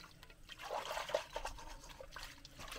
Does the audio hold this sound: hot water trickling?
yes